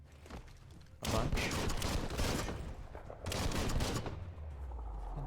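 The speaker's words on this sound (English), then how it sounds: "This is what this is gonna turn into. Just me shooting" Rapid bursts of gunfire from the video game Biomutant, loud and sustained with a brief pause between two volleys, and no speech over it.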